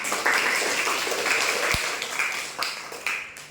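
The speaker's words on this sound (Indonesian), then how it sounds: "Tepuk tangannya dong" A classroom full of people claps steadily for a few seconds, a dense patter of hands that tapers slightly toward the end.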